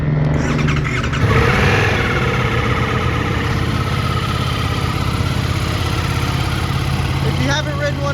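Ducati Multistrada V4 S Grand Tour motorcycle, 2024 model, running close by with a loud, continuous V4 engine rumble, steady and busy throughout, with a faint squeal near the end.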